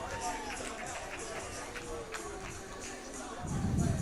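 An arena crowd at a live MMA championship at the Hard Rock Hotel in San Diego cheers and claps for a fighter, a steady moderate roar of mixed voices and clapping that grows louder near the end.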